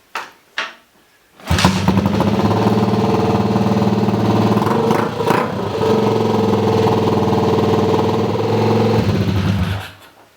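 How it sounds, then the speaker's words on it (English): Honda CG125 motorcycle engine, a cafe racer build with the choke off, starts after a couple of short cranks and settles into a steady, slightly high idle with a close, even thrum that cuts out near the end. "It's idling a bit high"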